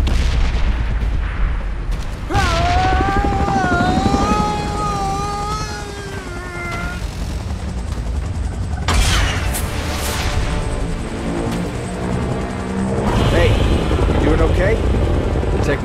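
Aircraft flying in the PUBG Mobile video game, a loud rumbling engine drone under booming blasts and gunfire, with voices speaking over a rising whine that wavers in pitch.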